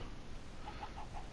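Minecraft chickens on a farm give a few short, soft clucks in an even series over a low steady background, faint and close.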